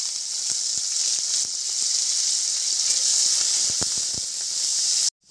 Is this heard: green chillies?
yes